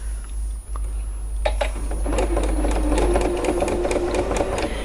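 A sewing machine stitches fabric for a face mask, its needle set at 4.8, with a steady rapid mechanical whir. The whir builds after a brief quieter pause and keeps running close by at a continuous pace.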